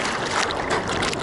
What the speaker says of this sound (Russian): Окей, волна.